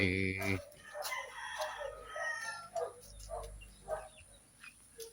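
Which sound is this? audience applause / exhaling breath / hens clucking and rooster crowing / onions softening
hens clucking and rooster crowing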